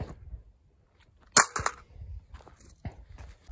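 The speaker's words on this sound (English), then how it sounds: "we're gonna go ahead and start with a drop test" An AMEND2 rifle magazine, a worn, heavily used one, dropped in a drop test lands with a sharp clack and a few quick rattling bounces, followed later by a fainter knock, with no talk.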